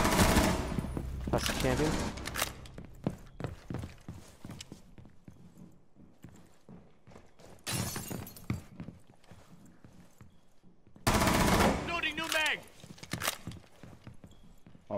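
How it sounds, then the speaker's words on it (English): Hip-fire gunshots in a shooter video game come as loud bursts of rapid shots in several clusters with quieter gaps between them, while a voice talks over parts of the action. "The last couple shots with the fucking hip fire"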